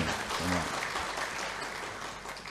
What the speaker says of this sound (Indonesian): kita beri aplaus untuk kami